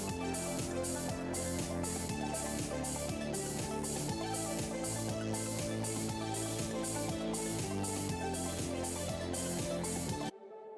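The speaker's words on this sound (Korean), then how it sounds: "음악이 갑자기 죽어버리니까 좀 마무리가 뭔가 개운치가 않죠" Figure skating program music, dense and full with steady rhythmic pulses, plays loudly and continuously, then stops dead in an abrupt cut near the end, leaving only a faint low remnant.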